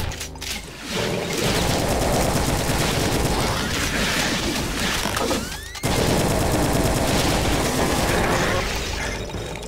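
Dense, rapid gunfire in Brutal Doom rattles almost continuously, with overlapping shots and bursts under mechanical clatter, loud and close.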